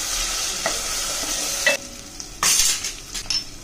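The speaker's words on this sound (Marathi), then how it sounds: "हिरवी पेस्ट चांगली तेलात भाजली पाहिजे" Ginger and green chili paste roasting in hot oil, a continuous close sizzle with a few bursts of louder crackle and stirring scrapes, heard alone without speech.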